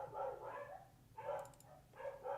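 Dogs bark in a room in three separate bursts of a couple of sharp barks each, moderately close and rather quiet, with short pauses between them.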